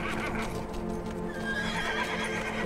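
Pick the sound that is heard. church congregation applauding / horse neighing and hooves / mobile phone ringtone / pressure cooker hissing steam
horse neighing and hooves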